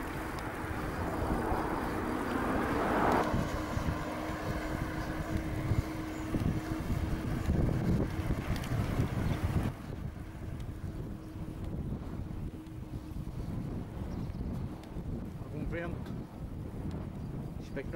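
Strong gusts buffet the microphone outdoors, producing a loud, continuous low roar and rumble that eases noticeably about halfway through but keeps blowing steadily afterwards.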